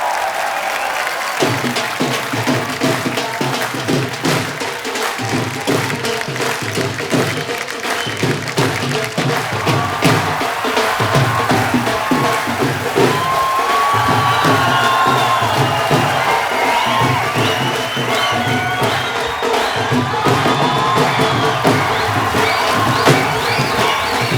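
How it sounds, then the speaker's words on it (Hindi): A studio audience at a Hindi TV comedy show, The Kapil Sharma Show, applauds and cheers in a loud, steady wave of clapping with whoops and shouts that carries on without a break. "जोरदार तालियों से एक बार स्वागत कीजिए"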